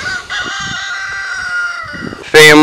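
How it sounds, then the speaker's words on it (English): Rooster crowing with chickens clucking on a family property where turkeys are also kept, the crowing loud and close, rising sharply near the end, with a little faint background voice underneath. "The chickens, the turkeys"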